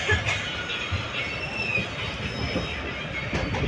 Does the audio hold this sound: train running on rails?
yes